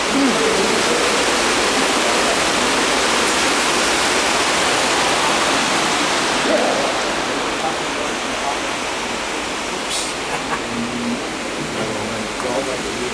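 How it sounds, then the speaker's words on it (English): Water pours steadily through a treatment plant process, a loud, continuous broadband rush like a waterfall that eases slightly toward the end, with no clear voices over it. "So this is water that's coming from this process."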